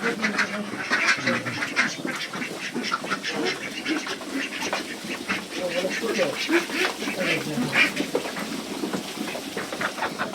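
A flock of ducks on a farm quacks continuously and busily nearby, many overlapping calls, with a person talking at times beneath the chatter.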